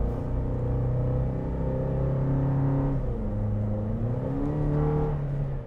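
A 2023 Toyota Tacoma's four-cylinder engine, paired with a six-speed automatic, drones under acceleration, its pitch climbing, dipping at a gearshift, then rising again in a steady in-cabin hum.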